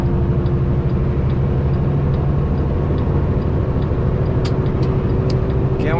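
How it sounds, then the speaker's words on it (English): Engine of a Volvo EC380EL excavator working a hill near Beatty, Nevada, a loud steady diesel drone with a deep rumbling hum and rising whine, continuous and close, with a few faint clicks near the end. "RPM is climbing."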